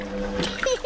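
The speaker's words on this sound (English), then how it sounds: "The washing machine is filling up with hot," A cartoon washing machine fills with hot, soapy water: short splashy sloshing, close and brief, with tonal sounds layered over it.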